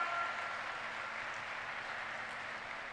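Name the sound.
audience applause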